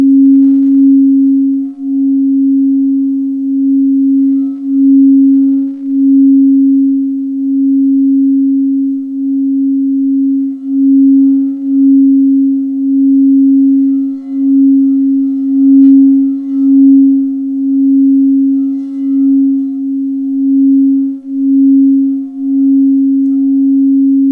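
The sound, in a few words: Schumann resonance low tone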